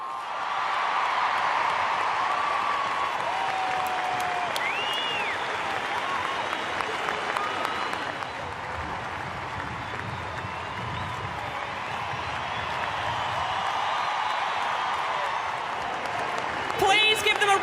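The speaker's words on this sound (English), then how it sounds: "Please give them a round of applause, your 2019 NAB AFL Women's Premiers, the Adelaide Crows." Stadium crowd at the 2019 AFL Women's Grand Final, Adelaide Crows against Carlton, applauding and cheering in a long sustained wave while an announcer speaks over the public address.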